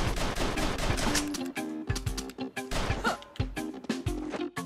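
Rapid retro video-game gunfire from the side-scrolling shooter Mercenary Kings, with loud, repeated bursts of shots and blasts chopping through backing music.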